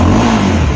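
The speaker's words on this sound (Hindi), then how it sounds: "अब ये एग्जॉस्ट उतना लाउड नहीं साउंड करेगा" Hero Xpulse 200cc motorcycle exhaust revving in a short, loud, close burst of steady engine drone with no talk.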